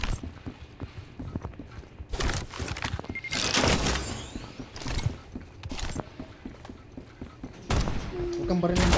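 Several sharp gunshot bursts crack out at irregular intervals amid clattering game effects, loud and close, with occasional voices in between, in the battle royale video game Farlight 84.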